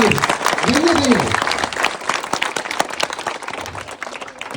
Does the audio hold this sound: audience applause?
yes